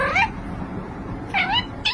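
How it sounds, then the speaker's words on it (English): A domestic cat gives short rising chirps or trills as a greeting, two or three brief bright calls separated by quiet, close and clear over faint room noise. "the charming chirp or trill, essentially your cat's hello"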